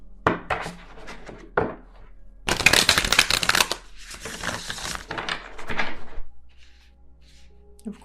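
Tarot cards shuffled by hand in bursts of crisp riffling and flapping, close and fairly loud, with brief pauses and a few soft knocks between.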